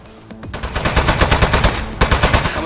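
Rapid, steady automatic shots from the desk gun in Aperture Desk Job fire loud and close in a tight rhythmic stream, with a brief break before the firing resumes.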